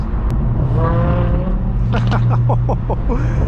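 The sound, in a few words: Lamborghini Huracan V10 engine revving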